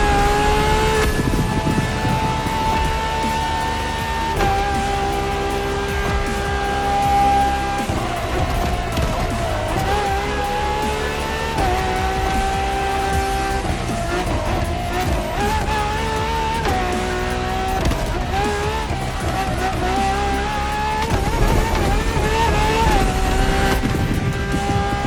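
A Ferrari LaFerrari supercar with an F1-derived kinetic energy recovery system races in The Crew Motorfest, its engine screaming loud and close as it climbs through the revs with repeated sharp gear shifts, steady and continuous for the whole stretch.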